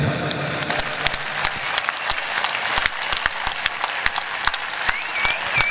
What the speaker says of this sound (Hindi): यादव साहब ने 18 गोलियां खाई, उसके लिए जितनी तालियां बजाएं बजा लें।